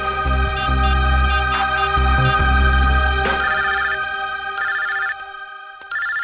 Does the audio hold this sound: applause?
no